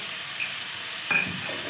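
Ground ginger, cumin and chilli paste frying in oil with potatoes gives a steady soft sizzle, with a brief louder hiss as the paste hits the pan near the middle.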